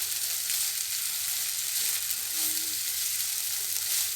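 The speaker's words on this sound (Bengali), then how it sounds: "এবার আমি সাবুটা দিয়ে দিলাম সবটা। সাবুর সঙ্গে ভালো করে নাড়িয়ে নিচ্ছি।" Soaked sabudana tossed with colourful vegetables in a pan gives off a steady, close sizzle with soft scraping as it is stirred, carrying on evenly throughout with no voices.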